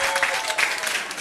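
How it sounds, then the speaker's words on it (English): Quiz teams at a pub trivia night clapping and cheering, a dense burst of applause filling the room for a brief moment. "There's a lot of cheering going on."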